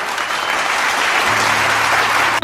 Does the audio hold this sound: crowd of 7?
yes